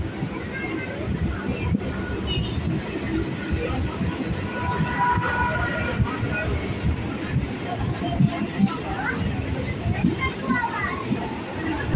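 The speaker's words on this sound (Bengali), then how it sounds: "ট্রেনটা এখন ঢুকলো নিমদাড়ি স্টেশন, যেটা কিনা টাকির আগের স্টেশন।" A Sealdah local train pulls into Nimdari station near Taki, its wheels rumbling steadily over the rails while children's voices and chatter carry on loudly nearby.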